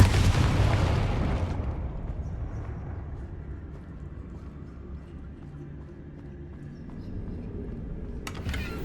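A Confringo spell explosion in Hogwarts Legacy, a loud close blast with a broad rumbling burst that fades into a low lingering rumble over several seconds.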